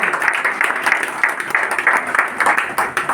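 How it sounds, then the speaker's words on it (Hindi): Audience applause at an education centre inauguration, steady clapping from a crowd that holds for about three seconds at moderate level without breaks. "जोरदार तालियां से स्वागत करूंगा मैं"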